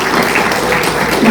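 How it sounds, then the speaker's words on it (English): An audience at a storytelling show applauds, a short dense burst of clapping heard loud and close. "Big round of applause for the audience, folks."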